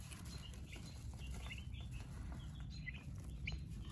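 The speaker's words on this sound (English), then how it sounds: "show you guys the little turkeys and the little chicks" Faint high peeping chirps from turkey poults and chicks scattered over a low rumbling background, soft and irregular, with no talking.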